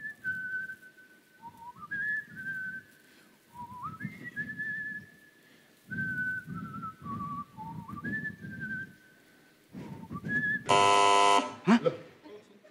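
Someone on a televised music-guessing game show whistles a melody as a song clue. The tune comes in several separate phrases over soft background murmur, and a loud buzzer-like burst near the end cuts it off.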